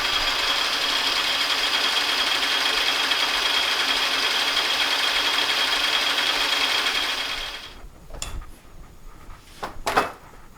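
A 1932 Craftsman bandsaw with an updated drive runs steadily with a loud, even mechanical whir, then stops, leaving a few scattered knocks and clunks.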